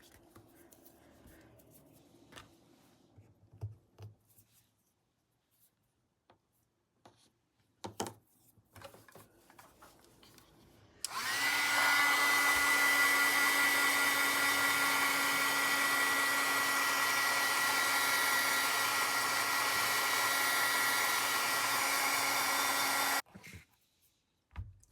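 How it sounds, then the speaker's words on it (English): A heat tool drying a glued napkin blows a loud, steady whooshing hum for about twelve seconds, preceded and followed by quiet handling taps and clicks. "So I'm going to dry this now with my heat tool."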